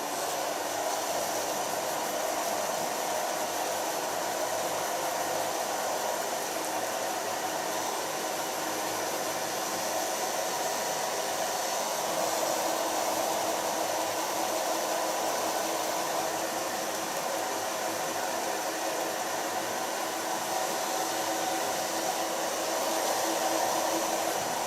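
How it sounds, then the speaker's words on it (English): A hair dryer blows steadily and close for the full length while hair is dried by hand, a constant loud airy roar with no pauses. "Now I'm going to blow dry her hair with only the use of my fingers."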